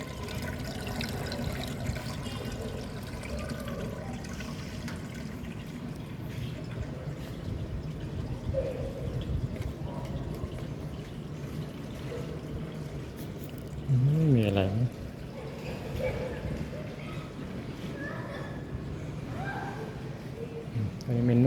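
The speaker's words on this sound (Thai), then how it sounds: "โอเคน้ำไหลออกแล้วนะฟังเสียง" An LG Inverter WT-1385TH coin-operated washing machine drains water in a continuous pouring trickle, with people talking in the background.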